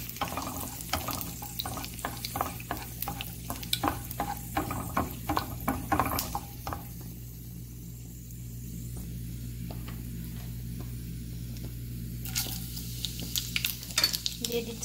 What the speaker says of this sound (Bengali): প্রথমে আমি 3টা তেজপাতা দিয়ে দিলাম, তারপর দিয়ে দিচ্ছি শুকনো মরিচ,